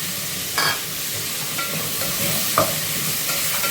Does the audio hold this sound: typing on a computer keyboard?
no